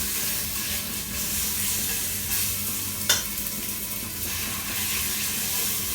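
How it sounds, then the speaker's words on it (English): Jerk chicken pieces sear in hot oil with a steady, close hiss throughout, broken once by a brief clink about halfway. "So I'm just gonna place these in there and let them sear a little bit."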